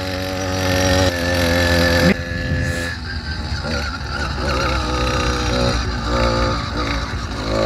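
A motorized bicycle engine labors up a hill in rain and mud, a loud close buzzing two-stroke drone with harmonic whine that shifts pitch as throttle changes, running alone without talk.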